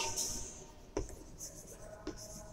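Chalk or marker writes on a classroom board during a chemistry lecture, giving scratchy strokes with a couple of sharp taps as letters are formed, close and fairly quiet with no talk.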